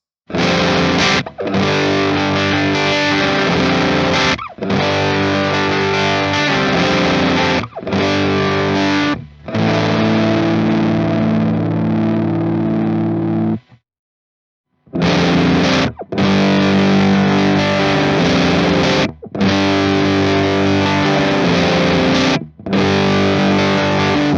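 Electric guitar played through an Earth Quaker Devices Hoof fuzz pedal, loud, thick distorted chords and riffs in repeated phrases broken by short pauses, with one longer silence midway and no talking.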